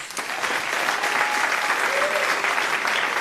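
A music forum audience applauds a drummer at the end of a class session, a dense, even wash of clapping from many people that holds steady at moderate loudness, with faint voices mixed in.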